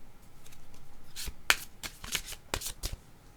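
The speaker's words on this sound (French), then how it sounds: "je vais piger une carte" Cards from a yellow tarot-style deck flicked and drawn by hand, a quick run of crisp snapping and riffling taps, close and clear with no voice over them.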